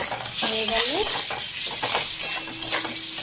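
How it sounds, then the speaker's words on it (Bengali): Potatoes fry in a pan with salt and turmeric, a steady sizzle broken by scraping stirs of a utensil against the metal, with faint background sounds and no clear talk. "আলুটা একটু ভাজা হয়ে গেছে, দিয়ে দিচ্ছি নুন আর দিয়ে দিচ্ছি হলুদ।"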